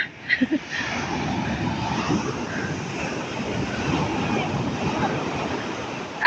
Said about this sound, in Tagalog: Ayan, pagkalakas-lakas ng alon.